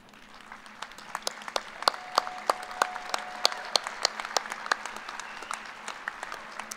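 Graduates at a fall business administration commencement stand and clap. Distinct individual claps sound at a steady, sparse rhythm over a quiet hall hum, with no talking.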